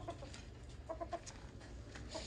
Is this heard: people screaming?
no